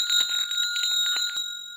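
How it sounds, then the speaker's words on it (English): A single bell rings out clearly and close, its bright metallic tone sustaining and slowly fading over a couple of seconds, with no voices around it. "He rang the bell,"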